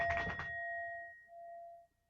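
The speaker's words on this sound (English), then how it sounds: "I'm just going to do a bell sound check." A meditation bell is struck once as a sound check, a bright metallic strike followed by a clear sustained ring that fades, then swells briefly again before dying away, heard alone and fairly close.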